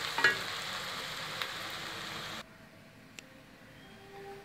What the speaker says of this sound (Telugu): ఇప్పుడు ఆనియన్ కొంచెం బ్రౌన్ కలర్ వచ్చే వరకు వేయించుకోవాలండి